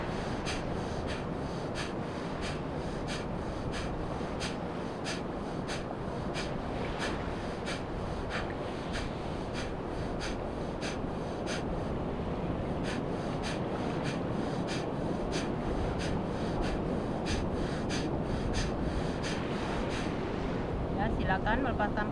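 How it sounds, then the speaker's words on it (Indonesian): Bhastrika pranayama breathing: rapid, forceful in-and-out breaths repeat in a steady fast rhythm for the whole stretch, close and fairly soft, with a brief change at the very end. "Kita praktekkan sekitar 30 putaran Bhastrika."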